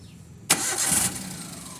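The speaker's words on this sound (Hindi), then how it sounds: "अभी हम इसको स्टार्ट करके दिखाएंगे आपको।" Maruti Alto 800 car engine cranking and catching after an ignition coil repair, a sharp start followed by a steady close idle.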